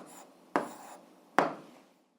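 Pen strokes on paper while an answer is written for an 8th-grade algebra exercise: two short, distinct scratches with soft rubbing between, quiet and close.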